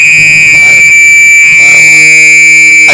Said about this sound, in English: Fire alarm, yeah. That went off. That was a fire alarm.